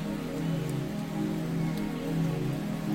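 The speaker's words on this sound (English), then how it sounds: "It's raining." Steady rain falling outdoors near a lake, a soft continuous patter with faint individual drops, moderately quiet and unbroken, with no voices.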